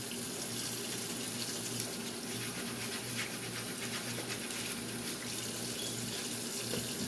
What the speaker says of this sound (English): Always make sure to wash your tools after use.